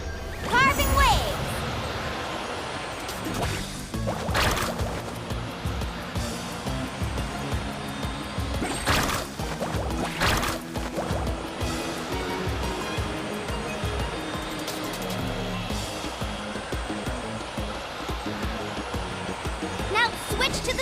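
Water rushes and splashes continuously as a character surfs across waves in the game Genshin Impact, a dense, hissing wash with scattered sharper sprays, running under frequent voice lines throughout.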